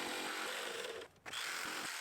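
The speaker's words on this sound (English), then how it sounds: "And then these had to be pre-drilled" A power drill bores pilot holes through wooden blocks for a DIY laundry station, its steady loud whine running almost the whole time with a brief dip midway, no talking.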